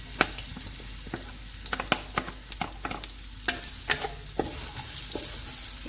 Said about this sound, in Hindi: जब ऑयल गर्म हो जाएगा तो इसमें प्याज डाल देंगे